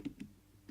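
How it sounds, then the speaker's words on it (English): Computer keyboard being typed on, a few quick, light clicks in close succession, quiet and close. "so let's start typing in a word."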